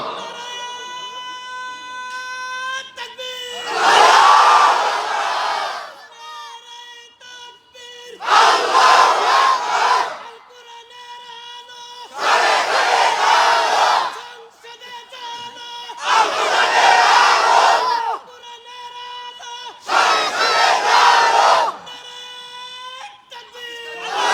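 At an Islamic gathering, a large crowd shouts the takbir in unison, five loud roaring bursts of a few seconds each, alternating with a single voice leading the call between them.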